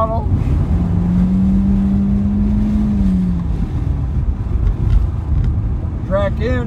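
A Porsche race car at full throttle on the Willow Springs Raceway track, a loud steady engine drone with wind rush throughout, a voice speaking over it.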